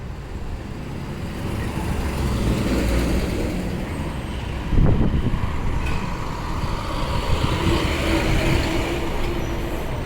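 Trucks stopped and rolling along Water Street in Barrington give a steady, loud, low rumble of idling and moving engines, with a brief heavier thump midway and no voices.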